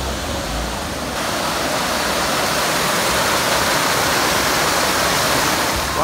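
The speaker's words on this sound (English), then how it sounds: "it's a wonderful waterfall" A steady roaring rush of falling water at Bhagsu Waterfall near Dharamsala, India, loud and continuous throughout with no voices.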